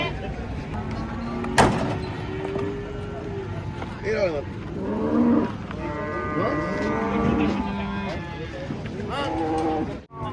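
Three cattle of different colours and shapes moo as they come down from a truck, several drawn-out, wavering calls close by, while people talk over a noisy background.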